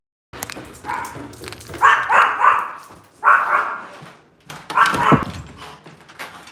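Several dogs bark in loud, close bursts, with clusters of yelps separated by short pauses, heard outdoors during a walk.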